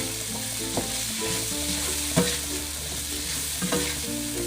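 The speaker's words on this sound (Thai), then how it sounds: "ผัดต่อไปจนกว่าสตอจะสุกนะคะ" Minced pork and stink beans stir-fry in a hot pan with a loud, constant sizzle, and a spatula clinks and scrapes against the pan at irregular intervals.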